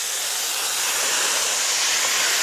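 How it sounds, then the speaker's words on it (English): Wine poured over toasted rice in a hot pan for garlic risotto sizzles in a loud, continuous hiss that stays even throughout the short stretch, close by with no speech. "Adding wine at this point, the rice is now very thirsty"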